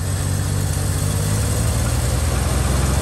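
Squarebody Chevy K10 truck engine idling steadily right after a cold start following six months unused, a loud, even low rumble with constant vibration and no pauses, close by.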